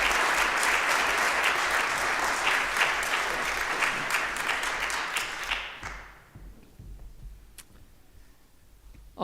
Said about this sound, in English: I think we need to clap for the stewards.